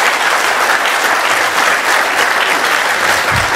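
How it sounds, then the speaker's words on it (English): A conference audience at a broadcasting industry summit gives the panel a big round of applause, loud, dense and sustained clapping from many hands that fills the room evenly, with no talking. "Very big round of applause."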